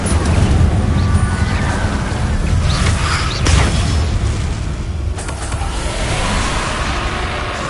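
Spell effects and explosions from the video game Hogwarts Legacy form a loud, continuous wash of booming blasts and crackling magic, with a few sharper impacts standing out and no clear talking.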